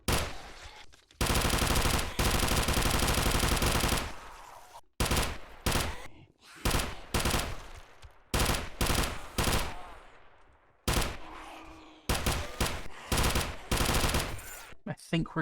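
Armor-piercing rounds fire in 7 Days To Die with the Escape From Tarkov mod, as loud sustained automatic bursts followed by a series of short, sharp volleys with brief gaps between them.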